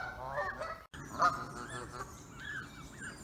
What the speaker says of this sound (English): all the other ducks are here calling it